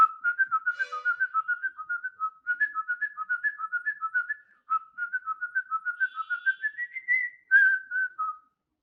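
One person whistles a Tamil film song melody alone and up close, in quick clear notes grouped into rhythmic phrases with short pauses between them.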